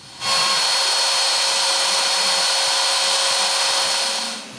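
A steady, loud high-pitched machine whine with a constant tone, running continuously for several seconds before cutting off, as a CNC router carves a date into a walnut clock frame.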